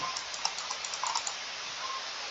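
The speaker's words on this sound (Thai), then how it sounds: "อันนี้อันนี้คือเสียงเมาส์ใหม่นะ" Quick, light clicking of a new computer mouse in an irregular run, close by and fairly quiet, with a faint steady hiss underneath.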